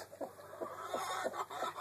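Soft, rapid clucks from a chicken sit close to a snake that is eating an egg, forming a faint, uneven run of short calls over low background hiss.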